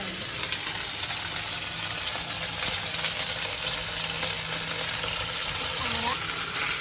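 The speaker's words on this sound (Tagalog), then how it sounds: "Brown muna yung hipon." Shrimp browning in a hot frying pan for Kapampangan-style Singapore noodles, giving a steady, close sizzle and spatter that holds for the full stretch with no break.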